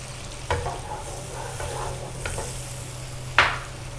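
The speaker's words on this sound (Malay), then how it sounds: "Saya goreng cili padi ni sekejap." Steady oil sizzle from bird's eye chilies frying in a pan, with a few sharp clinks and scrapes of a utensil stirring, including one louder knock near the end.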